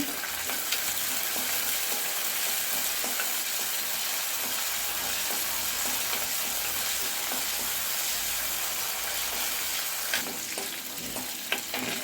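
Dried turkey berries (sundakkai) fry in a pan with a continuous dense sizzle and hiss and light crackling throughout, close and fairly loud, with a few sharper clicks near the end and no voices.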